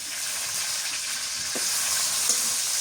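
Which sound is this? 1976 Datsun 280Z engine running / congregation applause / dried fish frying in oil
dried fish frying in oil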